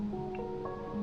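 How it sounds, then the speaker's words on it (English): A single drop of FW ink falls into the cup of a Paasche VJR 0.25mm airbrush, a quick soft wet squish over a low steady background hum. "one good drop of ink. Little back bubble."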